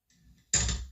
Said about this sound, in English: using a door closing. Let's import the door.